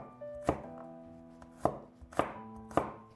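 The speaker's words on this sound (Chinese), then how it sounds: "一些去皮的大蒜先切成蒜片" A knife slices peeled garlic cloves into thin pieces, giving four crisp, close chopping strikes at uneven intervals with quiet pauses between them and no voices.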